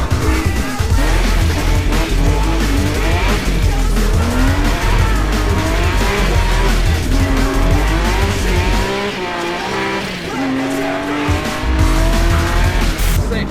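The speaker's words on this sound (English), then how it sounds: "it feels so good to drive this car" A supercharged BMW E30 with a swapped S54 E46 M3 engine, making about 500 hp, is driven hard. It roars continuously with rising and falling revs and squealing tyres, and briefly eases off before pulling hard again.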